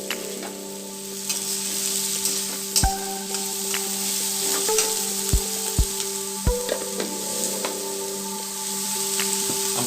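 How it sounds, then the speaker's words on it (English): Chopped onions fry in hot oil, a constant close sizzle punctuated by several sharp clacks and scrapes of a spoon stirring the pan, with no talking. "I'm going to allow my onions to fry until they turn slightly translucent"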